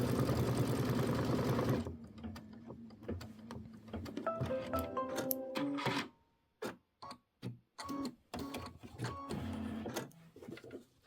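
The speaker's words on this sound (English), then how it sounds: "stitch the body tack down, step number 4" An embroidery-style sewing machine stitches a body tack-down on a mini quilt, a fast steady mechanical whir that breaks into short stop-start bursts of stitching and quiet pauses, close and moderately loud.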